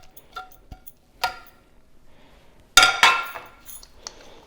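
Apple walnut cake batter stirred by hand with a utensil in a bowl, heard as a few sparse clinks and taps against the bowl, including one louder pair of knocks midway, with quiet pauses between.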